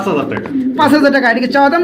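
A female white fancy pigeon coos repeatedly at close range, soft throaty calls rising and falling over about two seconds, with someone talking throughout.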